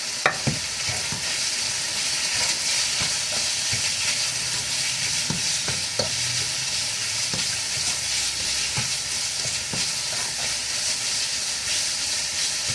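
Deep-fried tofu sautéed in a pan, a loud dense sizzle and hiss running throughout with occasional scraping taps of a spatula, close by.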